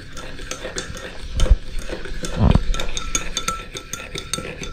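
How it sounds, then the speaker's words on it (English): A spoon stirs tea in a cup, scraping and clinking against the sides in a close, uneven rhythm, with a couple of louder knocks against the cup partway through. "Now let's stir our tea."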